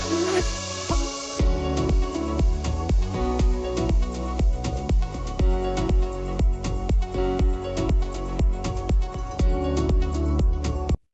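An electronic dance track plays from DJ software, a steady four-on-the-floor kick and crisp hi-hats driving a dense, loud mix that runs on evenly until it cuts off abruptly at the end.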